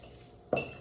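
A metal kitchen spoon clinks twice against a glass jar while adding salt to vinegar, two short close bright taps after a quiet moment.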